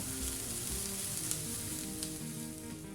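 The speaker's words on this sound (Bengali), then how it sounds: "চুলার আঁচ মিডিয়াম টু লো হিটে রেখে পেঁয়াজটা 2 থেকে 3 মিনিট ভেজে নেব" Chopped onion fries in mustard oil over medium-low heat, a steady close sizzle holding throughout, with a faint low hum beneath.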